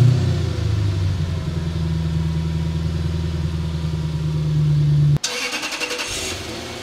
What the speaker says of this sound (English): this particular car actually have leaking mufflers. They're not too bad. Take a listen to that.